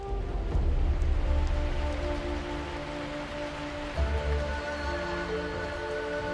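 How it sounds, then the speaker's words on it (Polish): Summer rain falling in Taiwan's forest, a steady soft patter and hiss of drops on foliage, moderately loud and continuous, with swells of heavier low rumble at times and no voices. "Wreszcie zaczęły się letnie deszcze."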